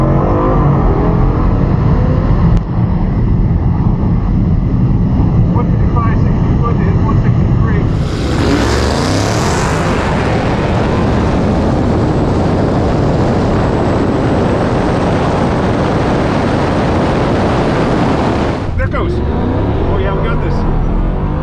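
A Tesla Model S Plaid launches down a quarter-mile drag strip, filling the cabin with a loud, steady rush of road and wind noise while people talk over it.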